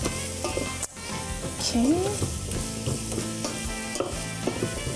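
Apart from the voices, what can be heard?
stirring tofu, onions, carrot and garlic frying in pan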